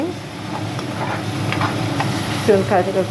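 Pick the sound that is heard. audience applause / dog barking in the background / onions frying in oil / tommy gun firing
onions frying in oil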